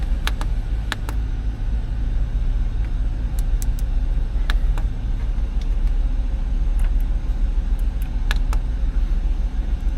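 A 1996 Chevrolet Impala engine idles steadily with a low, even rumble, close up, joined by scattered light clicks and ticks from inside the car, with no talking.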